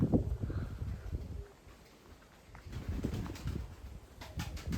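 Domestic pigeons coo in low, soft bursts close by under overcast, poor weather, with a quieter stretch before wing flutters and further cooing return toward the end.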